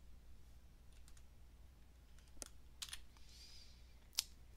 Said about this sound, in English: copy and paste using shortcut keys on the keyboard like Control C and Control V.